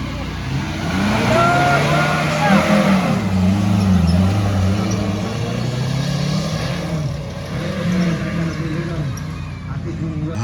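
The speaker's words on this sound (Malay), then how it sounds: "Ada engine braking dia panggil" Daihatsu Feroza 4x4 engine braking on an off-road track, a steady low engine drone with shifting pitch, rising and easing as it descends, with people talking over it throughout.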